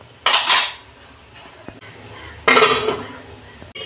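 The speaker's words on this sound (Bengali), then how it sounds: "দেখুন বন্ধুরা ঢাকনা খুলছি।" A metal lid comes off a pot of simmering potatoes for a potato, aubergine and fish curry, giving two bright clattering clanks of metal on metal a couple of seconds apart, close by, with a faint tap in between.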